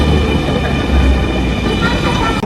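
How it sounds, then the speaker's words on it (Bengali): A Dhaka metro rail train approaches a busy platform, rumbling loudly and steadily with a deep low roar and faint high whine, close by. "বিপরীত দিকের ট্রেনটি চলে আসছে।"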